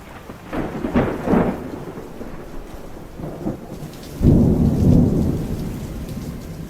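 A thunderstorm with steady rainfall and several deep, rolling thunder rumbles. A heavier, louder crash comes near the end over the constant hiss of rain, and no voices are heard.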